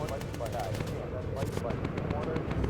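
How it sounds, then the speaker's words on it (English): Rapid cannon fire from a bomber aircraft in the video game Bomber Crew, a dense run of loud repeated bursts throughout, with a voice talking over the gunfire. "But now we've got the cannons going."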